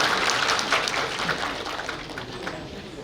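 Applause at a Korean high school graduation ceremony as a student is called up for an alumni association award, a dense, continuous burst of clapping from a large crowd that tapers slightly toward the end, with faint voices mixed in.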